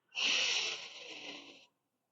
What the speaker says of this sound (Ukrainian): Затримка, правий видих. Правий вдих.